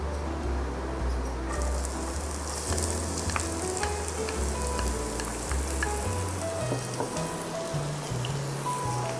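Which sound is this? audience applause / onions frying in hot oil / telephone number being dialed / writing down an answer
onions frying in hot oil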